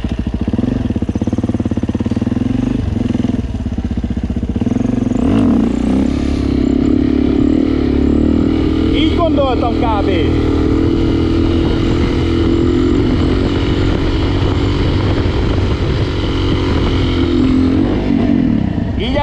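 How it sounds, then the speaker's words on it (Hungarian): A DRZ400E dirt bike engine runs in second gear during a long wheelie, giving a loud, steady, strained drone that holds without shifting and rises slightly in revs. Someone speaks briefly and faintly underneath it. "a motor ereje és a hangján is hallhatjátok, hogy olyan megerőltetést nem kapott"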